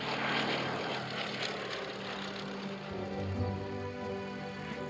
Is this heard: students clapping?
no